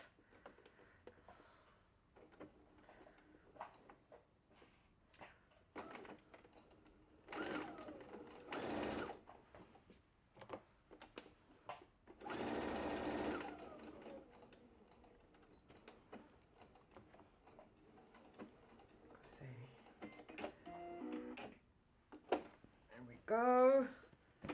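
A sewing machine stitches small fabric pieces for a gift bag in quiet, intermittent runs of rapid whirring, with pauses, rustling, and faint handling noises in between.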